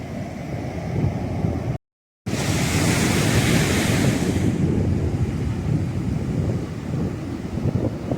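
Strong sea waves crashing on a beach, a loud continuous roar of surf with heavy wind rumble against the microphone, broken by a brief dropout.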